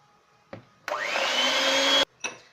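Electric mixer whirring steadily while mixing dough for quick Snioua sablé cookies, a loud continuous motor drone running a bit over a second, framed by short knocks before and after.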